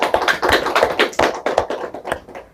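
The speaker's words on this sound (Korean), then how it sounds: "박수로 맞아주시면 감사하겠습니다." A lecture audience applauds with dense, steady clapping from many hands, the rhythm fluttering throughout and no voices over it.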